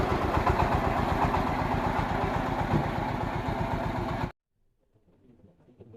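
A small tractor on small tyres runs with a steady, close, mid-pitched chugging engine drone that cuts off abruptly, leaving near silence.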